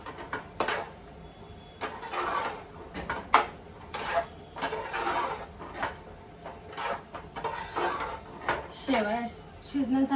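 Spoon scraping and clinking against a pan as vermicelli shevaya upma is stirred and mixed, intermittent metallic knocks and scrapes close by while someone talks throughout.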